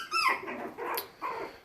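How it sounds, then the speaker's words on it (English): A five-week-old puppy in a wrestling litter gives short whiny yips and rough little growls, three or four bursts close by, with no talk over them. "Little Tomlin, maybe that was you with that big old growl."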